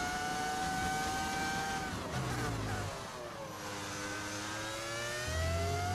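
Racing-game engine audio of a V10 sound pack modded into F1 25: a high, whining engine note that rises, drops as if shifting or lifting, then climbs again, fairly quiet and continuous with no talk over it.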